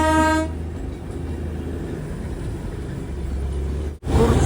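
A Darjeeling Himalayan Railway train arriving at Kurseong gives a short, loud whistle at the start, followed by the steady rumble of the train rolling along.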